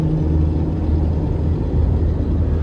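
A 2026 Chevrolet Corvette Z06 in sport mode gives a steady, close engine rumble with a deep low drone and whirring hum, loud and continuous from the cabin as it pulls hard.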